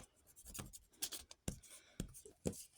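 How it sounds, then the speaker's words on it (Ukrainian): Quiet scratchy rubbing of an eraser across a surface, a series of short irregular strokes and scrapes, faint and close with no talk over it. "Дивіться, як добре стираю."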